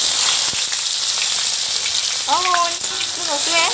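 Onion hits hot oil in a pot of meat curry with sugar already added, a loud steady crackling sizzle close by, with a voice speaking briefly over it near the end.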